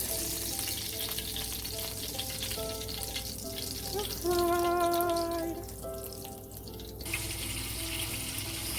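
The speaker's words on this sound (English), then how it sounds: "your fried fish. This fish is the perch." Perch fish frying in oil, a steady crackling sizzle that runs throughout at close range, with a few brief tonal clatters partway through and no talking.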